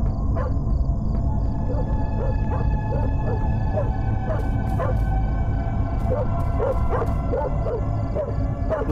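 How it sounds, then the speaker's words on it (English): Dog barking inside the horror video game Fears to Fathom, Carson House chapter, repeated short barks in an uneven rhythm over a steady, loud hum of game ambience. "Dog is barking."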